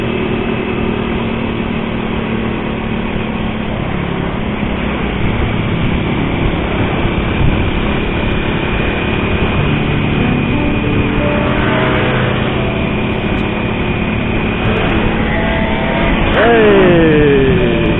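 A Honda Astrea Prima two-stroke motorcycle engine buzzes steadily while riding through traffic, then revs with sharply rising pitch near the end. A voice speaks briefly.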